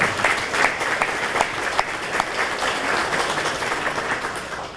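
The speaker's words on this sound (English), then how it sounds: "Let's give Coach Walker another big round of applause." A high school athletic hall of fame audience gives Coach Walker a big round of applause: dense, steady clapping filling the room, with a few louder claps standing out.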